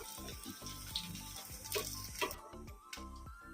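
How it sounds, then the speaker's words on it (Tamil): Chicken pieces frying in hot oil on a medium flame give a steady soft sizzle with bubbling crackles and light clinks of a utensil turning them, close and fairly quiet. "ரெண்டு பக்கமும் கோல்டனாக ஃப்ரை பண்ணி எடுத்துக்கலாம் திருப்பி போட்டுக்கலாம்"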